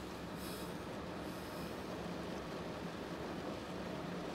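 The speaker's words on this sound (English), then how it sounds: "Faint footsteps of passengers getting on and off of the train get lost in the sound of the running engines." Steady rumble and rolling clatter of a passenger train running, a dense continuous wash of rail noise with no distinct footsteps standing out and no voices.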